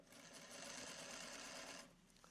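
A sewing machine runs steadily, stitching an invisible zipper seam down a 1/2 inch seam allowance, a continuous close whirring motor drone that stops near the end, with no talk.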